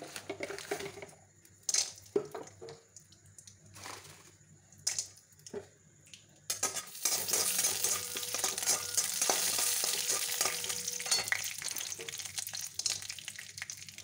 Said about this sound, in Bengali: এখানে সাদা তেল দিয়েছি, অল্প করে বাদামগুলো ভেজে নেবো।